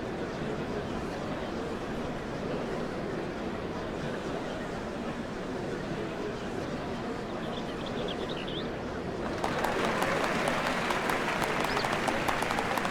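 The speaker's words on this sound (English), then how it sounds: "What a crowd!" Crowd applause in Final Fantasy XIV at a ceremony, a soft continuous patter of many hands that swells suddenly louder and brighter near the end, with steady crowd murmur underneath.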